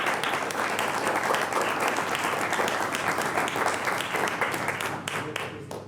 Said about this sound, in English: a huge applause to Charles Burdett, Mr. Stoller